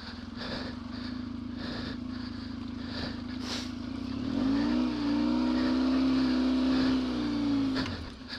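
Off-road motorcycle running through a rough pasture over hidden stones, its engine droning steadily at a distance, then swelling into a louder, higher rev partway through before easing off at the end.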